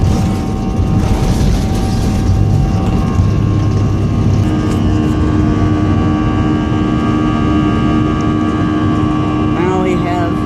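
A passenger airplane takes off from Kathmandu airport on a bumpy climb, its cabin filled with a loud, steady engine roar and rumble that never lets up, with a few rattles and tonal whines.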